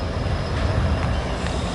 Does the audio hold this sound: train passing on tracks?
yes